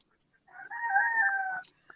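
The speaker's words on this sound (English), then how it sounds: "I hear them roosters this morning." A rooster crowing once in the morning, a single drawn-out call lasting about a second, heard at moderate distance against quiet surroundings.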